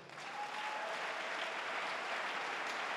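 A church congregation applauding at a sermon, with dense, steady clapping that holds at an even level for the whole stretch, heard from some distance and moderately quiet, without speech over it.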